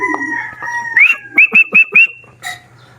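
A chicken crowing close by, a series of short, bright, repeated calls in quick succession over quiet background.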